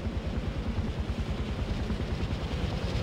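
Helicopter rotor in the video game Far Cry 4: a continuous, rapid low chopping beat, close and steady throughout, heard alone without speech.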